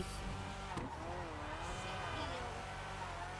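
A car drifting in GTA 5 Online, engine roaring with a sustained tire squeal that rises and dips, heard under steady talking throughout.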